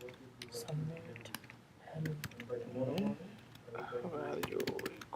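Fingers tap on a computer keyboard in quick, light clicks, faint and close, while people talk quietly over it.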